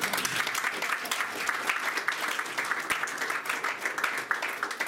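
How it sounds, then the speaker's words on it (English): An audience at a Scrum Gathering conference talk in Munich applauds, a dense, continuous burst of clapping from a crowd filling the room, steady and fairly loud throughout. "Give them applause."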